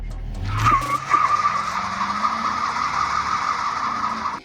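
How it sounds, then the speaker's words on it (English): Loud, continuous tire screech from a 1957 Chevy with an LS swap doing a burnout, a steady high squeal over the engine's rising drone, lasting several seconds. "She does burnout."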